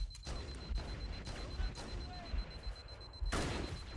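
Plasma pistol bolts and other weapon fire in the shooter Halo: Combat Evolved Anniversary, a busy run of sharp shots and bursts with a louder blast near the end, set against constant game noise.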